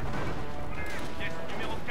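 Artillery fire in the Company of Heroes video game, a dense rumbling barrage with distant booms and crackles, loud throughout, with voices speaking over it.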